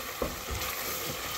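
Masala frying in a pan for kadhi, a steady soft sizzle with a brief stirring scrape near the start, close and fairly quiet with no talking.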